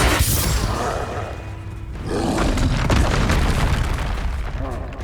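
Spells Flipendo, Confringo and Defendo cast in Hogwarts Legacy: loud, dense booming bursts and roaring magical blasts overlap in quick succession across the whole stretch, with a brief dip before the roar swells again.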